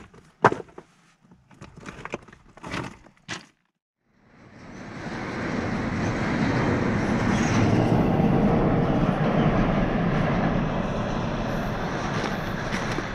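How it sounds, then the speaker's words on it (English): A train rolls past along tracks beside a quartz-strewn railside, a loud, close, sustained rumble and roar rising after a few seconds of scattered clatter and a brief silence. "That's a train."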